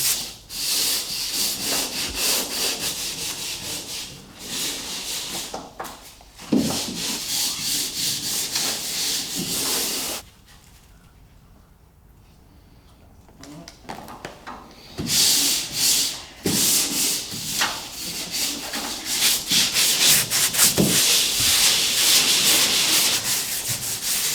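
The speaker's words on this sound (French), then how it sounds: "Une fois sec, lissez avec une grille de ponçage." Dried plaster on an interior wall being smoothed with a sanding grid, producing close, continuous rasping strokes in steady bursts with a brief quiet pause midway.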